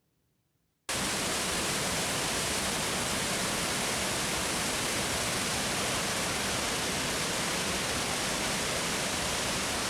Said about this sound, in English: A waterfall, that is something you need to hear.